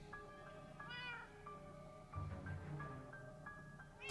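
Winslow the cat meows repeatedly in the video game Minecraft Story Mode, a series of clear, close tonal mews spread across a few seconds over a steady game music backdrop.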